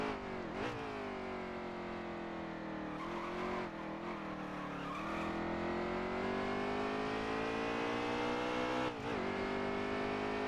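An Xfinity Series stock car in a racing game roars down the straightaway at Road America, its engine holding a steady high drone. The pitch climbs gradually, with brief dips at the gear shifts.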